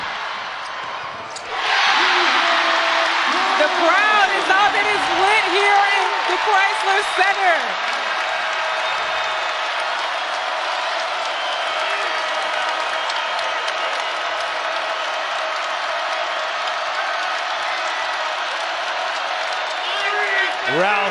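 A large, roaring crowd fills an NCAA women's basketball arena during Villanova versus Michigan, rising sharply and holding a loud, steady din, with sneaker squeaks and a commentator talking over it.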